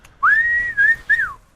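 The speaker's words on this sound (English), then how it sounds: "They could whistle." A person whistles a short tune: one long sustained note that bends slightly, followed by two shorter rising-and-falling notes, clear and close with no talk.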